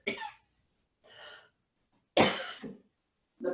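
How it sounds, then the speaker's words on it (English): Several separate coughs and throat clearings picked up on a home microphone during an online chair yoga class, short bursts with quiet gaps, one louder harsh cough in the middle. "The person that just coughed, please mute your microphone."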